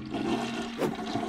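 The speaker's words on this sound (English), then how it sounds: "Gotta flush them all. Flushed every toilet." A toilet flushes in the Unpacking video game, a short watery rush heard alone at moderate level.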